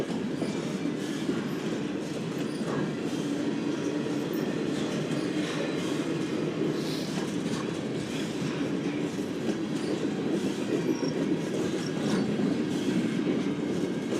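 Two Norfolk Southern freight locomotives roll past, a steady, loud rumble with a faint rail clatter running the whole time and no talking.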